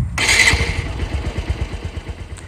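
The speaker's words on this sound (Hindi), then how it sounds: "अब मैं आपको दिखाता हूँ कि बिना चाबी के बाइक भी स्टार्ट हो जाएगी।" A motorcycle started without the key: a brief loud burst as the engine catches, then a steady, close idle with an even, rapid putter.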